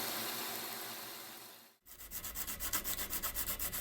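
Hand sanding of a forged sgian dubh knife blade with 120 grit sandpaper: a soft rubbing hiss, a brief pause, then quick, close, rhythmic back-and-forth scraping strokes, about five or six per second.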